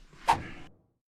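A garage door lifted by hand during a door repair job, heard as one quick rolling swoosh with a rattle that fades out within a second and leaves silence.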